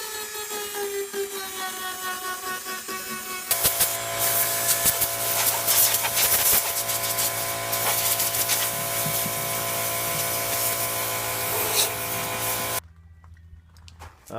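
A power sander works over the edges of an aftermarket amp rack built for a Jeep stereo, a steady close whine with rasping grit that runs for several seconds alone before cutting off abruptly.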